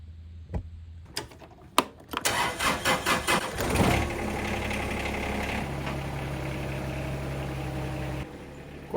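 A John Deere 2210 compact tractor engine cranks with a few sharp clicks, catches and sputters through rhythmic pulses, then settles into a steady, loud, close idle that drops slightly in level near the end.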